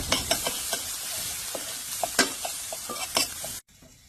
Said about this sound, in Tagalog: Gisa na natin ang bawang.